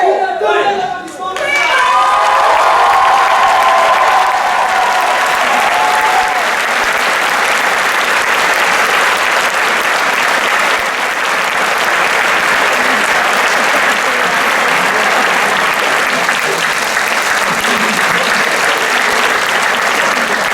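A theatre audience gives loud, dense, sustained applause after a stage performance of "Le Cid 2.0", steady for about twenty seconds, with a brief voice heard at the very start.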